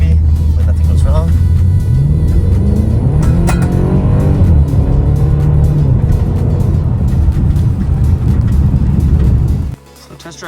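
A BMW X5 M on a test drive after major repairs, its engine a steady loud low drone with a rising rev sweep midway, voices talking over it until the sound drops off abruptly near the end.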